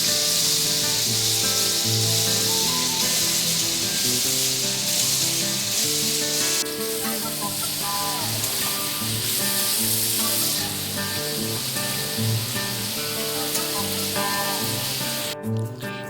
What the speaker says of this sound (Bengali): কড়াইতে তেল গরম হয়ে গেলে আমি চিংড়িগুলো এবার ওতে দিয়ে দিলাম।